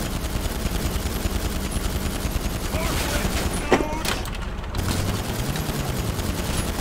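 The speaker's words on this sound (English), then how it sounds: "I'm just quietly sitting here shooting and shooting and shooting at it" Rapid, repeated gunfire from GTA 5 Online in a snowy mission setting, with loud bursts of shots firing in quick succession while a voice talks over them.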